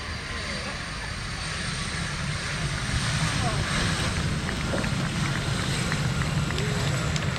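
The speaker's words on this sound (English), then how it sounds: "his exploits flying this, the Messerschmitt Me-262" Messerschmitt Me-262 jet flying at the RIAT airshow, a continuous broad engine roar that swells slightly as it passes, with a voice commentating over it.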